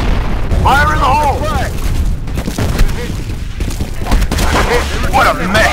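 Grenade blasts and gunfire in the video game F.E.A.R. during a capture-the-flag match, with rolling booms and rapid bursts of shots, loud and close. Voices shout over the fighting.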